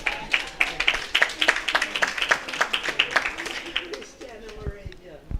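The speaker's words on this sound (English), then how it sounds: "Clap her some more." An audience applauding a former school principal, dense rhythmic clapping from a crowd that stays steady and fairly loud before fading away, with voices talking over it.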